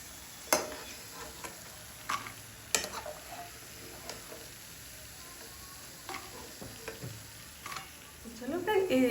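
Wheat-flour puris flavoured with peanuts and black pepper fry in oil, a soft, low sizzle broken by sharp utensil clicks and taps, with crackling growing louder at the end.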